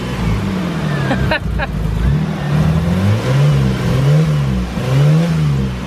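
A Toyota car engine revs repeatedly, rising and falling in waves, loud and close, with a few brief clicks early on.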